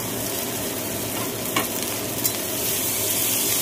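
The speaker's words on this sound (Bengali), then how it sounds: "একটু ভালো করে ফ্রাই করে নেব।" Spices, grated ginger, chopped tomato and curry leaves fry in hot oil with a dense, continuous sizzle, a couple of spoon knocks against the pan breaking through.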